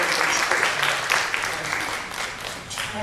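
Church congregation applauding to honor the young people after a fasting prayer effort, a broad steady clapping from a room full of people that fades slightly toward the end, with some voices mixed in.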